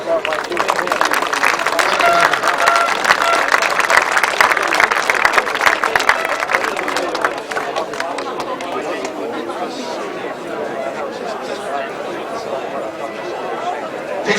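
Applause from a crowd at a grasstrack racing event, dense and steady, with loud chatter and voices mixed throughout and thinning slightly toward the end.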